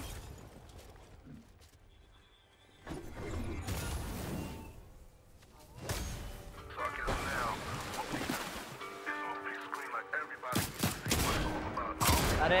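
Bursts of rapid gunfire in the video game Fortnite crackle in uneven volleys, with loud sharp shots near the end and game-like background noise between them.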